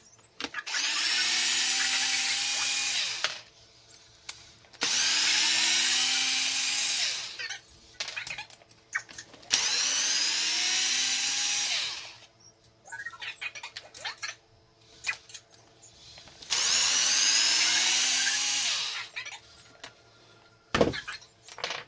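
A power driver backs screws out of the rear differential of an Arrma Kraton RC truck in four long whirring bursts, each a couple of seconds long, close and loud, separated by short pauses with light handling clatter.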